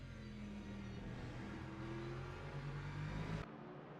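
Race car engines from LMGT3 cars in the Le Mans Ultimate sim racing game at Interlagos drone and whine steadily, pitch rising and shifting as they run together, then cut off abruptly near the end.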